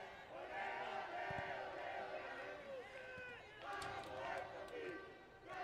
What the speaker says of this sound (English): it's a small crowd, but you can hear in the background, they're nice and noisy and they're creating an atmosphere